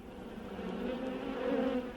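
Bees hum in a steady, dense drone inside an observation hive kept in a house, faint but continuous and swelling slightly with no voices.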